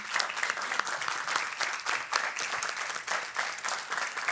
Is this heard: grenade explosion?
no